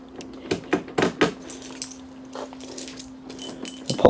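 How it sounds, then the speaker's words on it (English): Keys jangle and clink in a quick burst of metallic rattles at the lock of a Gold Rush Stampede fruit machine, followed by scattered softer clicks and a steady low hum from the machine. "I'll pop the keys in. I hope this is the right one."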